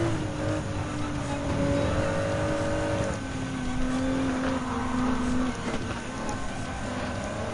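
Gr.3 race car engines in Gran Turismo 7 during a GT Cup race, including a Lamborghini Huracan GT3, sustained droning engine tones that rise and shift with gear changes, steady and fairly close, without speech.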